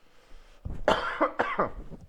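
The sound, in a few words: coughing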